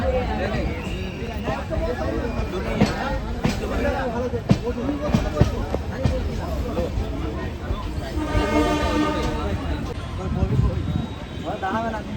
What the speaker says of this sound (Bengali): আমাদের ট্রেন এখন পার করছে বর্ধমান ইয়ার্ড ইএমইউ কারসেট।